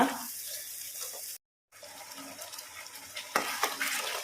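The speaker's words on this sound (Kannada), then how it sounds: "ನೋಡಿ ಮಸಾಲೆ ಒಳ್ಳೆ ಫ್ರೈ ಆಗ್ತಾ ಇದೆ" Masala paste frying in a pan for a mixed vegetable curry, a soft steady sizzle with scraping stirring strokes, near and moderately quiet, briefly cut to silence midway before the frying resumes.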